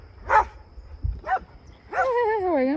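Dogs playing roughly outdoors in the Cocora Valley in Colombia, giving short yips and barks followed by a long drawn-out whimper or whine, fairly close and clear.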